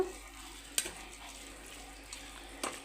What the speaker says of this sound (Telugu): వీటిని మనము కుక్కర్ పౌడర్ వేసేసుకుందామండి ఎంత కావాలంటే అంత వేసి ఒకసారి దీన్ని మిక్స్ చేసేసుకుందాము